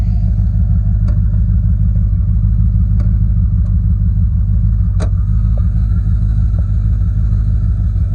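A project car engine with a past misfire idles steadily, giving a loud, constant low rumble close by, with a few faint clicks and taps on top.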